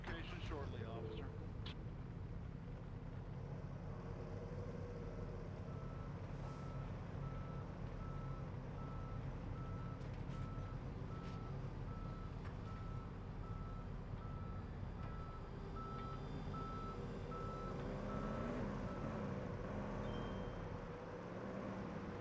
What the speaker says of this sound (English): Can you send a tow truck to my current location? Tow truck will arrive at your location shortly